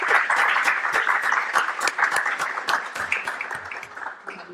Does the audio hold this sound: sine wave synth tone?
no